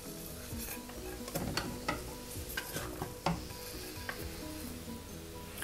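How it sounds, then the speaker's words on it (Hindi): Onions sautéing in oil in a pan with a bit of sugar, a steady soft sizzle broken by several close scraping stirs of a utensil against the pan. "ये देखिए, ऑनियन हल्का सा हमने सौते कर लिया है।"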